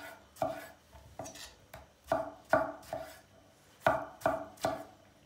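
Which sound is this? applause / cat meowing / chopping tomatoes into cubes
chopping tomatoes into cubes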